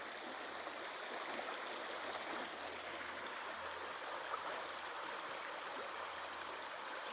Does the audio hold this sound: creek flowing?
yes